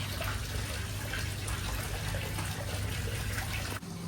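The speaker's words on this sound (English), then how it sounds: "It's the salt water flowing through the air conditioning condenser." Salt water rushes steadily through a sailboat's air conditioning condenser, a constant dense hiss and gurgle that dips abruptly near the end.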